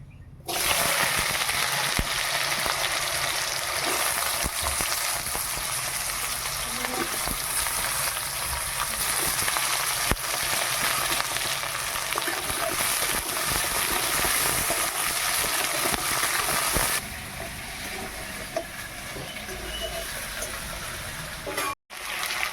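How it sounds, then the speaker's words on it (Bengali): Potatoes sizzle steadily in hot oil for a drumstick curry, a loud, continuous crackling hiss that lasts throughout, briefly cutting out near the end. "তেলটা গরম হয়ে গেছে আলুগুলোকে ভেজে নেবো"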